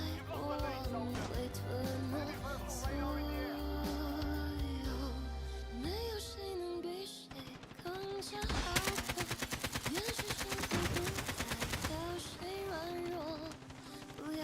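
AK rifle fire in a video game: sustained rapid bursts of automatic gunfire ring out in dense runs under a busy layer of music and game effects, and the shots clearly step up near the end.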